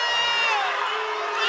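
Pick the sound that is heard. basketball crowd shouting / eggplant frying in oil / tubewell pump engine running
basketball crowd shouting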